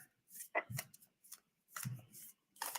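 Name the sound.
shuffling tarot cards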